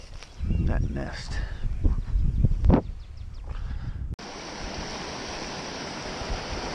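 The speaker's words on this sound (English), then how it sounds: "This still amazes me how much water comes off this pond." Water pouring off a homestead pond, a steady broad rushing flow that starts abruptly after someone speaks, then continues alone and evenly.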